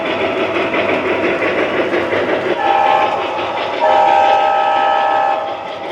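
An MTH model train locomotive numbered 280, fitted with a smoke upgrade, rumbles along the track with a steady mechanical whir, and a sustained horn or whistle tone sounds twice in the second half.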